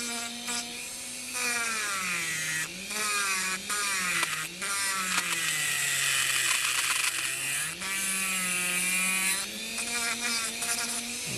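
A high-speed rotary tool trims the flanges of an autocured acrylic resin custom tray, giving a steady, close motor whine that rises and falls in pitch as the cutter bites, with no talking.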